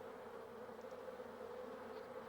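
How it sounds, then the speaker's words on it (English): Honeybees fan their wings inside the hive to drive air currents and cool it, giving a steady, faint, even buzzing hum with no pauses and no voices. "Vigorous fanning of the wings produces currents of air which evaporate the water, causing the temperature to go down."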